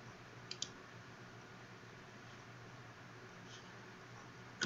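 Sparse, faint computer mouse clicks sound against a quiet room hiss, with a couple of isolated clicks early on and a sharper cluster at the very end.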